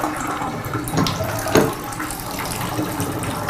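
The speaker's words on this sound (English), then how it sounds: "And the hot water came up right away." A shower runs hot water in a bathroom during a housing unit inspection, a steady hiss and splash of spray throughout with a brief louder splash near the middle.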